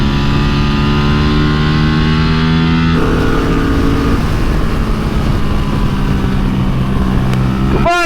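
A Royal Enfield motorcycle roars loud and constant around a race track, its engine note holding high then shifting pitch as it revs, with a sharp sweeping whine at the very end.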